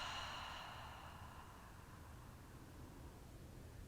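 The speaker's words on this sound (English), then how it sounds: "Let's do one more deepest breath yet. Audible exhale." A long, breathy, audible exhale during a yoga breathing exercise fades slowly into a faint steady hiss, very quiet and close.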